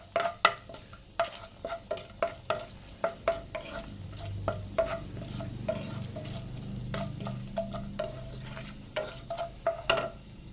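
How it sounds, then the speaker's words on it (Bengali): Whole garam masala, dried red chillies and bay leaves crackle in hot oil, with sharp repeated stirring scrapes and a low steady sizzle beneath, no voices. "এবারে এই তেলের মধ্যে গোটা গরম মশলা আর শুকনো লঙ্কা, তেজপাতা ফোড়নে দিয়ে দিলাম"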